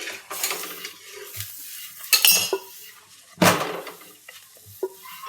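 Metal utensils scrape and clink against a hot pan while a puran poli flatbread is flipped, with sharp clanks and soft sizzling between them.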